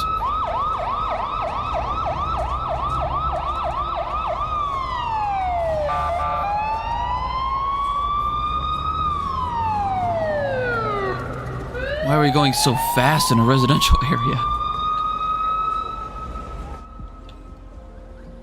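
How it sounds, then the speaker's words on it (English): Police sirens in a video game wail and yelp with shifting patterns, loud and close, sweeping up and down as the vehicle speeds through a residential area. A person talks over them briefly. "And the siren is different each time."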